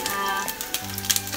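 Carrot, onion and garlic fry in a hot pan, giving a loud, continuous sizzle with small crackles and stirring scrapes, heard alone up close.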